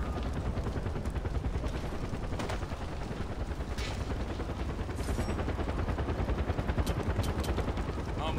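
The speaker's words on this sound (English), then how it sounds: "Dude, I hear a helicopter." Helicopter in the Far Cry 4 video game, a continuous rapid rotor chop thudding steadily under bursts of in-game gunfire, loud and sustained throughout with no one talking over it.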